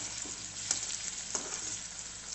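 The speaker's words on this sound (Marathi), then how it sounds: "आता हे परतत असतानाच मी त्यात घालते थोडेसे शेंगदाणे" Moth bean usal sizzling steadily as it is sautéed in a pan with raw peanuts, a continuous close frying hiss broken by a few soft stirring scrapes, with no one talking.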